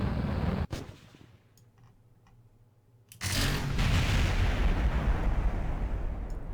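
In the space game Kerbal Space Program, a rocket engine blows up with a sharp crack, then a quieter lull before a loud, sustained explosive roar rushes in and keeps rumbling.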